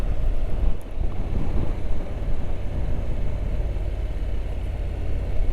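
A touring motorcycle heard while riding in the Netherlands: a steady low engine drone mixed with heavy wind rush across the helmet microphone, continuous and loud, with no talking.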